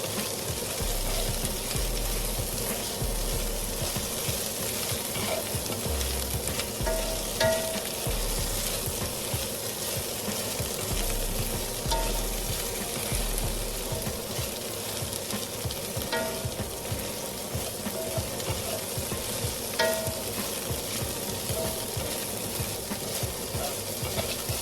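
Okra (bhindi) frying in a pan with salt, chili powder and turmeric, a continuous loud sizzle with occasional stirring scrapes, close up and steady throughout, no talking.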